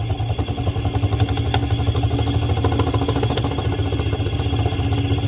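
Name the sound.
simple electric motor spinning faster with more current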